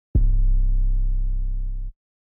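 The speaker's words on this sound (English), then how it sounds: "I got this 808 sound." A single sustained 808 bass note plays alone in FL Studio, a deep booming tone with a sharp attack that holds for nearly two seconds before cutting off abruptly.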